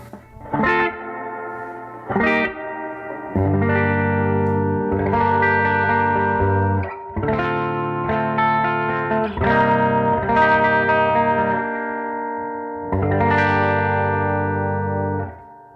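Electric guitar played through a 1968 Fender Princeton Reverb with reverb at 3, a series of loud strummed and picked chords with sustained ringing and a moderate, shorter reverb tail, no talking over it.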